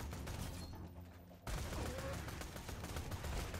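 Bursts of explosions and rapid gunfire from Borderlands 2 combat crowd a short stretch, cut off by a brief near-silent gap before the busy, crackling fight noise resumes at a moderate level.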